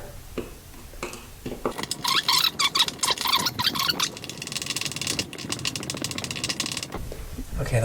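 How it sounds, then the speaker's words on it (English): Screws are driven and tightened into a bathroom light fixture bracket, with repeated close ratcheting clicks, squeaks and metallic scraping running almost continuously. "now we're going to screw these in and tighten them up so that they're snug"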